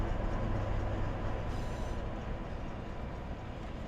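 A transfer train rolls in within the Run8 railroad simulator game around Savannah, Georgia, giving a steady, fairly quiet low rumble and hiss of wheels and engine with no voices.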